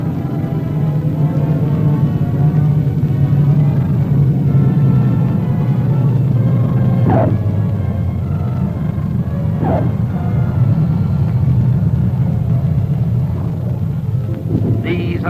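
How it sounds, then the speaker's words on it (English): Aircraft of a Hurricane Reconnaissance Squadron arriving from Guam, heard as a steady loud engine drone and rumble that holds for the whole stretch, with a few brief sharper bursts rising over it. "An aircraft of a Hurricane Reconnaissance Squadron arrives from Guam."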